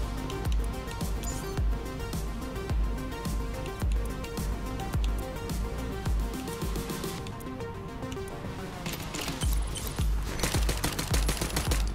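Rapid gunfire from a weapon in the run-and-gun video game Soda Crisis, a fast rhythmic stream of punchy shots over game music, loud and continuous for the whole stretch.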